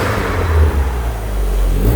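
Vauxhall Nova car engine revving, a loud, close, continuous mid-range engine roar that rises and holds with a heavy low rumble.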